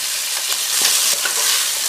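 Chopped onions hit a hot pan already holding garlic and ginger, giving a loud close sizzle with soft stirring scrapes and crackles, steady for a couple of seconds without speech.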